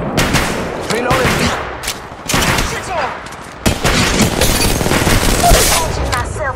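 Apex Legends gunfire in heavy rapid bursts, close and loud, with several pauses between volleys and shouted game voice lines mixed in.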